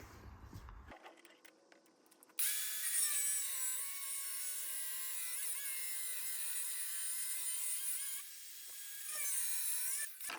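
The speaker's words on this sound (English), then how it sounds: "So I need to grind down this top." A power tool whines steadily at high pitch as a part is ground down on a Honda CX500 motorcycle build, starting after a couple of seconds of quieter handling noise and running loud and close, its pitch wavering slightly.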